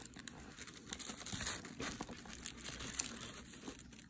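Hard cardboard Lamy pen box handled up close, with soft crinkling, scraping and rubbing and a sharper tap or snap partway through, all quiet and with no talking.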